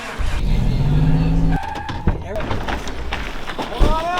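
A truck engine revs and pulls away carrying race participants at a Death Race obstacle event, a strong low rumble at first that gives way to shouting and talk from the crew riding in the back.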